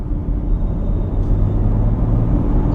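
A BMW X4 30d in comfort mode accelerates to overtake, with a deep, steady engine rumble and road noise heard from inside the cabin, without speech.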